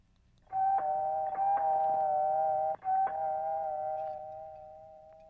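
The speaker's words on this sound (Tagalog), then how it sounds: "Doorbell mo." Electronic doorbell chime rings out clearly, a sustained ringing tone pressed twice with a short break, then fading away in a quiet room.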